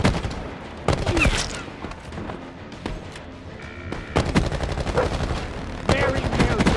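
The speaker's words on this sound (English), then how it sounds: "a turret gun fired and spun" Sentry turret gun firing in the Call of Duty Black Ops 4 video game, loud sharp bursts of automatic fire broken by brief pauses, with a longer sustained volley near the end.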